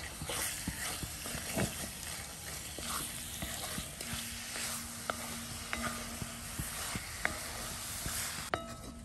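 Fish egg burji fries in a pan while a spoon stirs and breaks it into crumbs. A steady sizzle runs throughout, with occasional light scrapes and clinks from the spoon.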